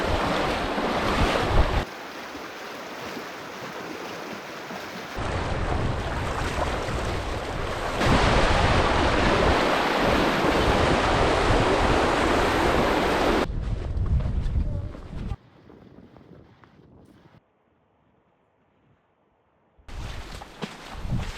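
River water rushes loudly during a river crossing on an Alaska backcountry camping trip, a steady broadband roar mixed with wind buffeting that changes level several times and drops almost to silence near the end.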